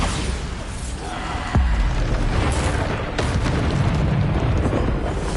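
The Bombarda blasting spell goes off in the video game Hogwarts Legacy: two heavy booms over a dense, loud bed of game noise.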